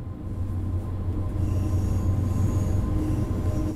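A train runs on rails in Train Sim World 2, a loud, steady rumble with a low drone, faint wheel squeal and a continuous rolling texture throughout, no voices.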